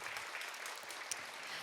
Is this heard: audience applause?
yes